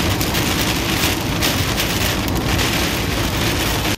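Heavy rain pours steadily during a thunderstorm in Bari, a dense, continuous wash of downpour close by with no talk and no distinct thunderclap.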